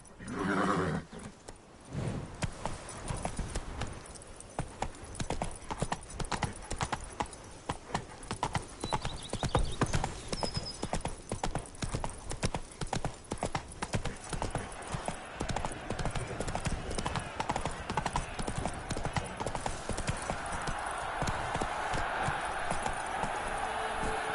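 A horse gallops in The Witcher 3 video game, rapid rhythmic hoofbeats pounding continuously and close for over twenty seconds, with a steady rush of game ambience behind them.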